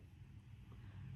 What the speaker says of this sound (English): washer and dryer are going right now